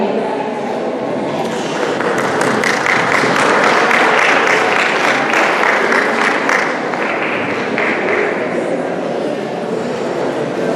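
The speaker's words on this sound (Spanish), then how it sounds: "Démosle un fuerte aplauso" An audience claps steadily, a dense sustained wash of applause filling the room for several seconds.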